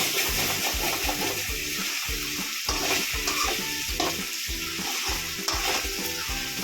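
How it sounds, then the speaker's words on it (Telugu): Chicken coated in ginger garlic paste stirred while it fries, steady close sizzling with repeated scraping strokes of a spoon in a rhythmic pattern, no talking. "వేసిన చికెన్ని బాగా కలుపుకోవాలి, అల్లం వెల్లుల్లి పేస్ట్ కలిసేలాగా"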